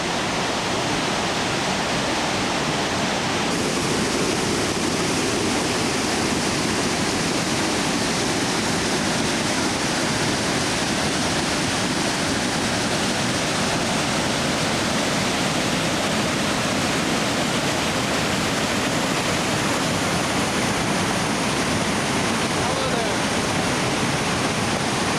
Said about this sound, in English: in the bottom of the valley now at the waterfall